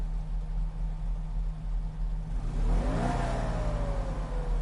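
Small 29-horsepower Fiat Panda engine in a racing video game, idling with a buzzy drone and then revving up, the pitch climbing and holding high, a thin lawnmower-like tone over background hum.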